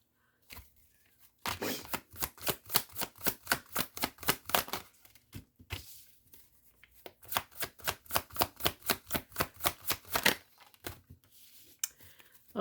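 Tarot cards are riffle-shuffled close up in two long bursts of rapid, rhythmic flutters, each ending in a soft slap as the deck settles, with quiet pauses around them.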